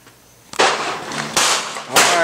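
A Colt 1911 government model GI-sized handgun fires three loud, sharp shots outdoors, spaced roughly evenly, each a crisp crack with a short ringing tail.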